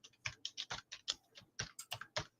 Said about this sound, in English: Here's somebody clapping away on the keyboard.